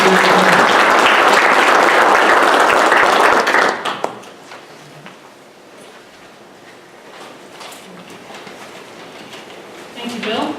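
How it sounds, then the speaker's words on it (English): An audience at an agriculture conference breakout session breaks into loud, dense applause for about four seconds, which then stops abruptly and leaves quiet room sound with a faint voice near the end. "if you would give them both a round of applause in advance"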